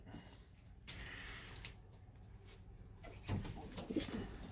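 Pigeons kept in a backyard loft coo softly at a moderate distance, with low murmuring calls and a few brief louder bird sounds and rustles near the end, under steady outdoor background noise.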